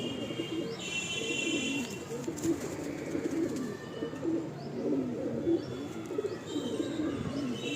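A breeding pair of loft pigeons coo repeatedly in low, throaty rolls close by, with occasional higher chirps and faint background noise.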